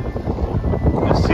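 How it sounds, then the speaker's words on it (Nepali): Cold wind gusting outdoors beside a city hall in Russia, a steady rushing roar buffeting the microphone, loud and close throughout. "यस्तो चिसो हावा चलिराखेको छ आज"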